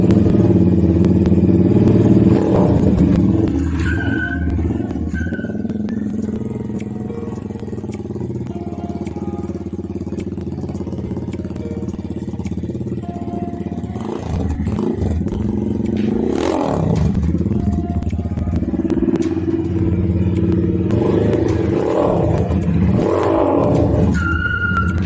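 Taro GP 1 motorcycle engine fitted with an SC Project exhaust, a loud close idle burble with repeated throttle blips that rise and fall, crackling between revs.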